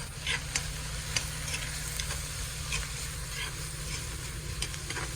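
Chili powder is stirred through hot oil in a frying pan, a soft continuous sizzle with light intermittent scrapes of the spoon, quiet and close over a low steady hum.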